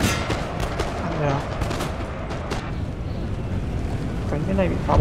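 Artillery and musket fire in Napoleon Total War, a battle game, heard as repeated sharp bangs and crackling volleys over a constant roaring battlefield din.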